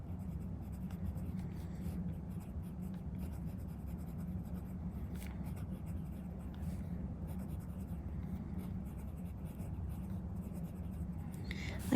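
A Narwhal Key West fountain pen with a medium nib writes words on paper, a soft continuous scratching and gliding close up, steady and quiet throughout.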